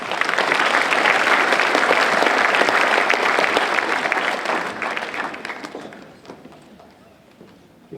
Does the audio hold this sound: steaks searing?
no